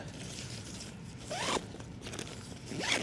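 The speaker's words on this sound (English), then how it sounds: "inner zip, which it zips up this baffle to keep the rain out" A tent's inner door zipper is pulled in two quick, close strokes, each a short rising rasp, against a quiet background, on a Vango Tiree 350 tent.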